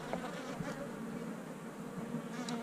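Honeybees in a nuc hive short of food hum in a steady, dense buzz that fills the whole stretch, with a few louder passes of single bees flying close.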